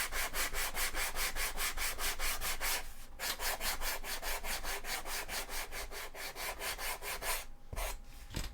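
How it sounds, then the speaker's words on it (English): Steady back-and-forth sanding on a Sisters of Battle chainsword cosplay prop, a dense rhythmic rasping stroke after stroke, close and loud, with a short pause near the middle and no talking. "So I have to do some sanding to try and get this a bit more smooth."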